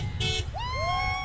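Car horns honk at a protest in Creason Park against a proposed $65 million tennis and pickleball complex: one short steady blast, then drawn-out horn tones that rise and hold, over a constant low rumble of traffic.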